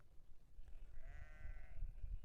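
One sheep gives a single drawn-out bleat while grazing with a flock of sheep and goats on a hillside, heard over steady low rumbling wind-like noise.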